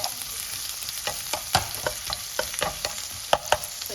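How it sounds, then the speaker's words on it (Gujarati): Garlic, ginger and green chillies frying in hot oil over a full flame, a steady sizzle punctuated by sharp clacks of stirring, close and fairly loud, with no talking. "જો આપણું તેલ ગરમ થઈ ગયું છે, એટલે આપણે એમાં લસણ નાખી દઈશું, સાથે આદુ નાખીશું અને લીલા મરચાં છે."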